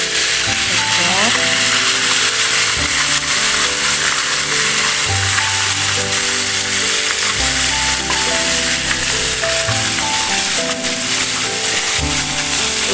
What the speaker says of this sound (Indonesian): Kita goreng hingga selesai dan matang ya